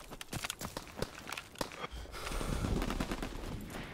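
Rapid automatic gunfire from a World War II–era shooter game during a hardcore team deathmatch, sharp bursts and single cracks in quick succession, giving way to a louder sustained rumbling blast toward the end.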